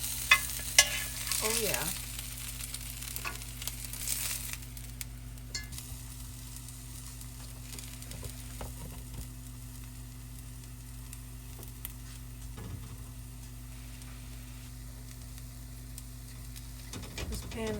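Birria cooks in a pan as grease is transferred in, with steady close sizzling and frying, occasional stirring clatter, and a steady hum underneath; a person speaks briefly.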